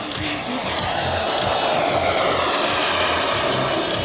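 Giant 1/3 scale radio-controlled L-39 Albatros model jet at a Classic Jets display event, its turbine giving a steady, loud broadband roar with a high whine, sustained and fairly close with no talk.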